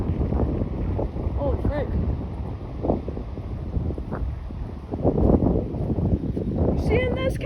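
Strong gusting wind buffets the microphone during a tornado watch, a steady loud roar throughout, with excited voices exclaiming over it.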